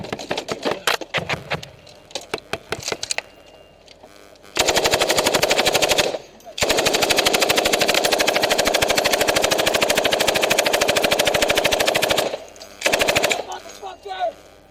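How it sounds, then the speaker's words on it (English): A .50 caliber machine gun fires in combat, with long sustained bursts of rapid, loud automatic fire broken by short pauses and scattered shorter volleys. "my guns are firing"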